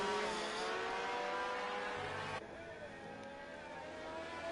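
Ferrari race car on a drying track, a high engine whine with climbing pitch held steady, then an abrupt cut to a lower, quieter engine tone, like an onboard view switching; a faint voice may sit underneath.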